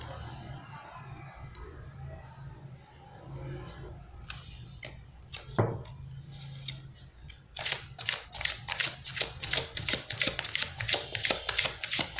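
Tarot cards being shuffled by hand in a quiet room: a few scattered soft flicks at first, then a rapid run of crisp, close card taps filling the second half.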